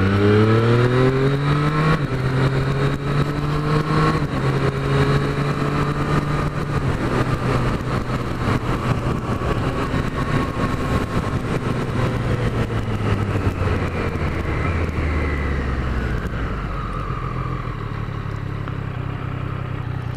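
A Triumph Street Triple 765 motorcycle engine roars steadily while riding, its pitch climbing and dropping through revs, loud and close throughout with no pauses.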